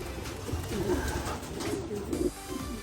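Racing pigeons just back from a 731-kilometer race coo softly nearby, with a few soft, throaty calls repeating over a faint background.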